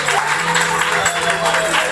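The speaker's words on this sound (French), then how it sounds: "je veux entendre un applaudissement assez fort" Loud applause from a crowd at Romy's birthday celebration, a steady dense clapping that holds for the full two seconds.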